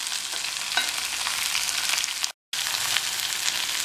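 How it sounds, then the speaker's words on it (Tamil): Okra with onions stir-frying in a pan for a South Indian vendakkai poriyal, a dense continuous close sizzle with stirring, cut by one very short silent break. "வெண்டைக்காயை சேர்த்ததுக்கப்புறம் நல்லா ஒன்று போல் கலந்து விட்டுறணும்."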